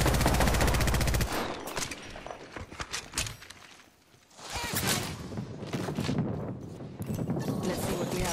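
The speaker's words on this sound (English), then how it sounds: "Opening fire on the enemy." Bursts of automatic gunfire in an Apex Legends match on PS4, sharp repeated cracks in uneven volleys with a brief lull midway before the shooting resumes close and loud.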